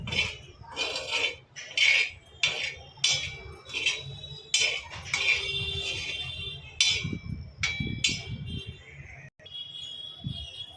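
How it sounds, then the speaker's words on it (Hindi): A spoon clinks steadily against a bowl while chana chaat is stirred with lemon juice, giving repeated bright metallic taps in an irregular rhythm, close and fairly loud. "लेमन जूस ऐड करने के बाद हम इसको इस तरीके से मिक्स कर लेंगे"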